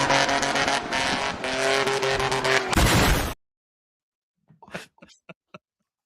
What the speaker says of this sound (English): I know it's just a sound effect, but the car is still being revved as it's going down.